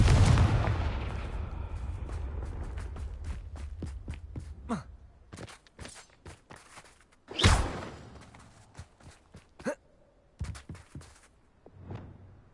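Confringo blasting spell in Hogwarts Legacy: a loud, booming burst opens and slowly decays, a second sharp blast hits midway, with scattered smaller impacts and footsteps between.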